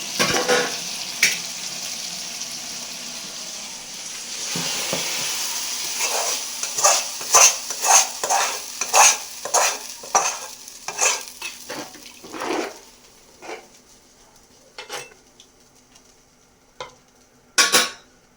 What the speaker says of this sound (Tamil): தக்காளி, வெங்காயம், பூண்டு நல்லா வதங்கிச்சு